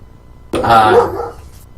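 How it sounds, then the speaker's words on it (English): A dog lets out a single loud, close bark that tails off briefly, breaking a quiet indoor background. "my dog's going psychotic"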